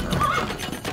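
A horse neighs briefly in the medieval strategy game Stronghold Crusader, a short whinny with a mechanical clatter beneath it.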